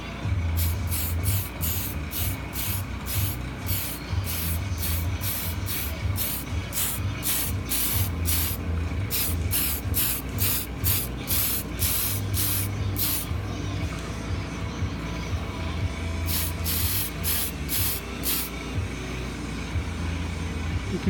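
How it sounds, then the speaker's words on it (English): Black spray paint applied to the inside of a clear lexan RC car body, a rapid series of short hissing bursts from a spray can, repeating steadily, close and loud. "So I'm gonna go ahead and give her another coat of the black here"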